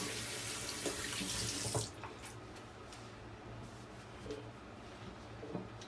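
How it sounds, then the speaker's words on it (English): Tap water runs steadily into a sink while fingers are rinsed under the stream, loud and close for the first two seconds, then a quieter trickle with faint drips and splashes. "rinse off my fingers."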